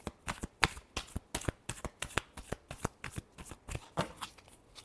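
A deck of tarot cards is shuffled by hand, producing a quick run of crisp riffling snaps and flicks at close range. The flicks fall at a brisk, uneven rhythm and the sound is fairly quiet, with no speech.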